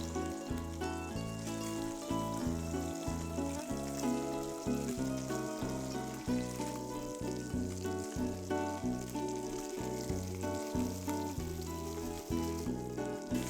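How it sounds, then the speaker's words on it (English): Salmon fillets sear in bacon grease in a pan, giving a steady, dense sizzle that crackles continuously throughout with no talking. "So using the same pan, we'll keep the grease from the bacon and start to cook our salmon."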